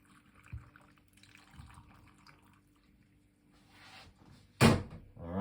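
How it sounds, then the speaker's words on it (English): One cup of water is poured into a blender for a homemade smoothie, a brief soft splashing pour in a quiet kitchen followed by a sharp knock or clunk. "We're gonna put some water, 1 cup of water."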